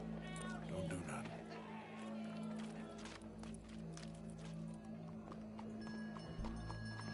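Horse hooves clip-clopping in Red Dead Redemption 2, steady rhythmic hoofbeats under a low background hum, with voices talking over them.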